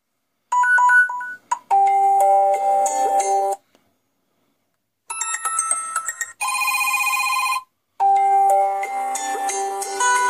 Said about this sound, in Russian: Звуки уведомления.